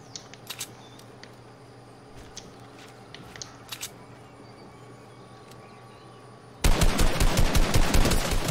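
Video game gunfire: scattered single shots and short bursts sound at first, then sustained rapid automatic fire bursts in loud and close for the last couple of seconds.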